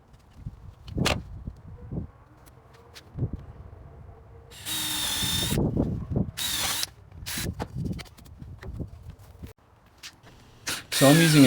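Power drill boring holes in wood for the adjustment blades of a stair tread jig, heard in several loud bursts of a few seconds each between quieter shop sounds and brief talk.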